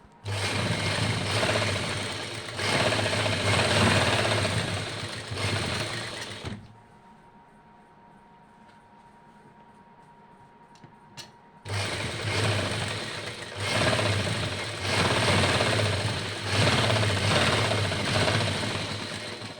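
A sewing machine stitches along the open bottom seam of a pencil pouch, running loud and steady in two long bursts with a quiet pause between them, and no one speaks over it.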